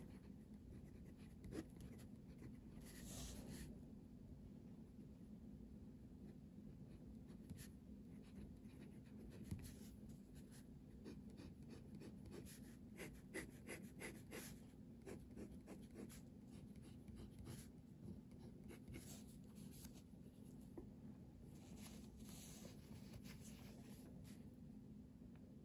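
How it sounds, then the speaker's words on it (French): Hongdian 1866 fountain pen with an F nib scratches faintly across paper in quiet, close strokes and short bursts, over a steady low background hum. "voici juste quelques mots écrits avec une plume de taille F, celle du Hongdian 1866"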